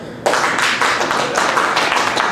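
Audience applause bursting in abruptly and holding steady, a dense close wash of many hands clapping at even loudness for a couple of seconds, with no talk over it.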